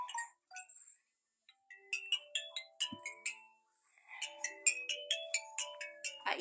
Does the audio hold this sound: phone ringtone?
yes